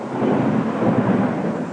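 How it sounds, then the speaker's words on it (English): Thunder from a Midwest storm: a loud, sustained low rumble rolling for nearly two seconds with no voices over it. "That is thunder."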